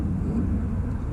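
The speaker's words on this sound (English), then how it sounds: "some planes in the background so nobody can hear what's going on" Airplanes passing overhead in the background, heard as a steady low rumbling drone that fills the whole moment without pause.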